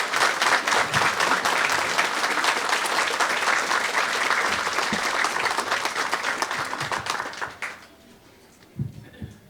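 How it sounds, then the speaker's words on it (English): An indoor audience claps at a library branch opening, sustained even applause from many hands that fades out after about eight seconds, leaving a few scattered thumps and room noise. "Please give him a round of applause for all that he does."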